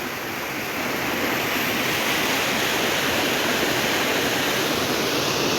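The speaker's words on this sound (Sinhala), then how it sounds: "ලස්සන වතුර පාරක්." A rushing stream near Labugama dam roars with a dense, steady wash of flowing water, loud and continuous with no pauses.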